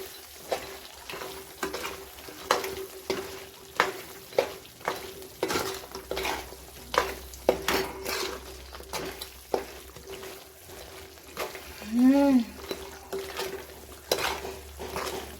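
Chicken pickle masala mixed in a pan, a spoon scraping and knocking against the metal in a steady rhythm over a soft sizzle of frying, close and clear with no talk.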